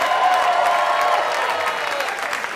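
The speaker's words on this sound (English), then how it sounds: "Give it up for everybody you've seen on stage. Clap for everybody you've seen on stage." Sustained applause and cheering from a comedy club audience at a stand-up show, steady and dense throughout with no pauses, like a full crowd clapping together.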